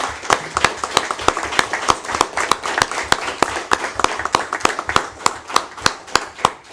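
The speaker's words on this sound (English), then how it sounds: "can we give him a round of applause, Stacy?" A city council meeting audience claps for a firefighter, sharp distinct claps falling in a quick, fairly regular rhythm, close and crisp over a quiet room, with no talking heard.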